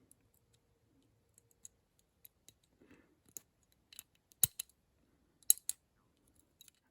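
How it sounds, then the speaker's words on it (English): A small part of a Smith & Wesson 19-4 revolver is pushed into its slot and clicks into place, a few faint, sharp metallic ticks close by in a quiet room. "as I push it home it's going to click in"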